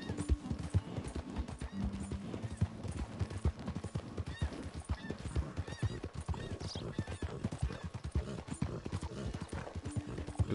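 A horse gallops with rapid, even clip-clopping hooves and lets out whinnying neighs in Red Dead Redemption 2, close and prominent throughout, with a brief voice underneath.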